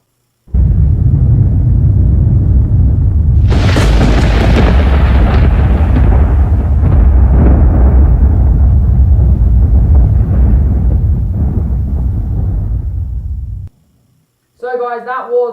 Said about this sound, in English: that was Thunder and Lightning again